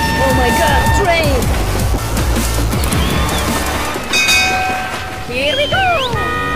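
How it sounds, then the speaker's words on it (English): A train rumbles loudly close by, with a horn blaring near the start and again near the end, while excited voices shout over the noise. "Oh my god, train!"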